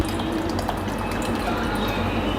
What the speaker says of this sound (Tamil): இப்போது தோசை ஊற்றுற பதத்தில் இல்லை, இன்னும் கொஞ்சம் நம்ம தண்ணி சேர்த்துக்கலாம்.